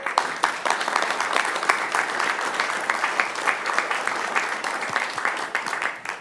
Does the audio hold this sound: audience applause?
yes